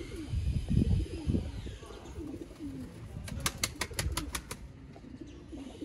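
Sialkoti breeder pigeons coo at close range while wings flap and rustle nearby, with a burst of rapid clicking taps partway through.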